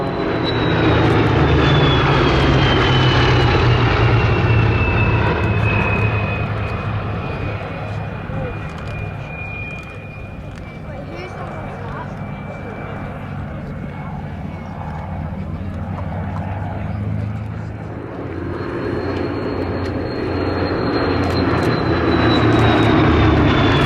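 Propeller aircraft flying aerobatic manoeuvres, a loop into a quarter cloverleaf, at the Duxford Summer Airshow, its engine droning loudly and steadily with a shifting whine as it climbs and turns, a commentator speaking over it.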